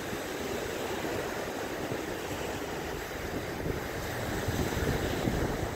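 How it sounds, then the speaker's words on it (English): Ocean waves wash ashore on Fort Myers Beach, Florida, as a constant surf roar mixed with gusty wind buffeting the microphone. "the sound of the water and the waves"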